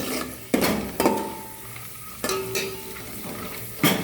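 Peanuts and almonds frying in a pan, a soft continuous sizzle broken by several sharp scraping stirs of a spatula against the metal, close and without talk.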